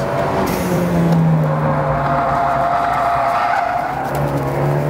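A 2017 Fiat 124 Spider drifts with loud, sustained tire squeal over a revving engine, continuous and close for several seconds.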